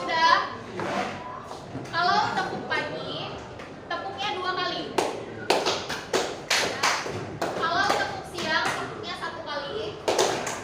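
Schoolchildren in a classroom join a 'tepuk pagi' clapping game, with bursts of crisp hand claps and desk taps coming in rhythmic clusters while a teacher and children speak and chant over them.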